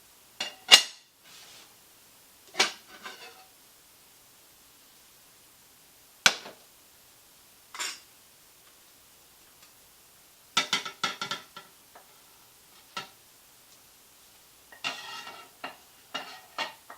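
Tortilla española, a Spanish omelette, being flipped in a pan: a few sharp clatters and scrapes of pan and plate, spaced apart with quiet gaps, then a busier run of clinks and knocks.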